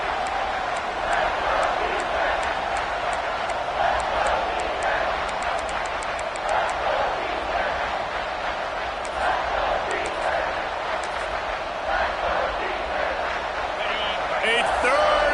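A college football stadium crowd roars steadily during a Louisville versus NC State game, a broad sustained wall of cheering with whistles and claps, under a play-by-play commentator's voice.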